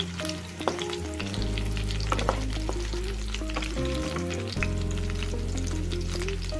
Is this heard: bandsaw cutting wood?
no